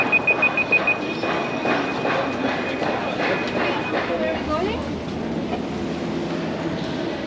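A train at Bergen's small railway station, under a platform hall, gives a steady rumble and clatter, with a short run of beeps at the start and voices murmuring in the background.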